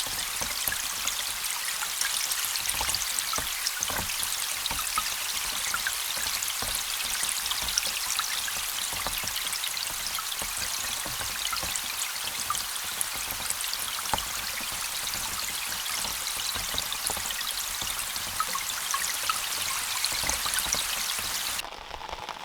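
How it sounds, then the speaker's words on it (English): Rain falling on the largest French freshwater lake, recorded underwater: a dense, continuous patter of countless drops, steady and even throughout, with no voices. "And when we hear now, with my headphone, we only hear rain."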